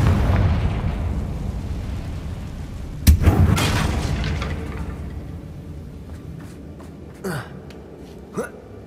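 A Confringo spell detonates in the Hogwarts Legacy video game, a sudden loud boom with a crackling burst that rolls off over a low rumble, followed later by two fainter pops.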